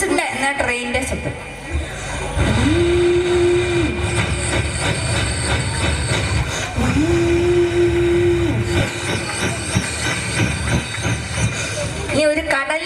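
A goods train imitated by a human voice: a continuous rumbling chug with two long horn-like hoots, one after another, close and loud throughout.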